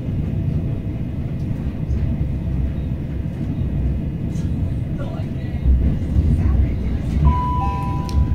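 Southeastern train 375821 on the Ramsgate to Charing Cross run, a steady low rumble of a moving carriage with faint mechanical whines and a short tone near the end, heard continuously from inside.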